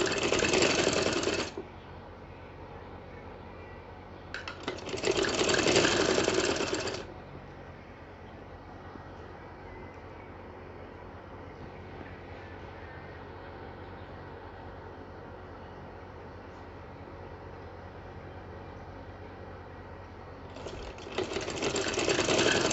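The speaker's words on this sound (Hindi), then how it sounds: "तो इस तरह से स्टिचिंग करें इसकी।" A sewing machine stitches small fabric pieces together in two loud bursts, one at the start and another around five seconds in, then starts again near the end, with quiet room hiss between the runs.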